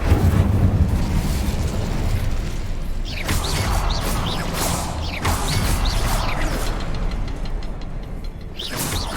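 Incendio fire spell cast in Hogwarts Legacy, a loud roaring, crackling burst of flame over dense rumbling game noise, with several sharp whooshing swells repeating through the clip.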